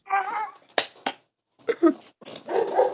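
A dog barks indoors, close and loud, in a few short, sharp bursts separated by brief silences, ending with a longer, rougher bark.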